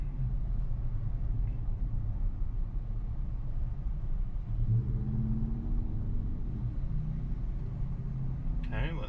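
A bus rolls past in city traffic with a low rumbling engine. A driver speaks over the steady road noise from inside a car.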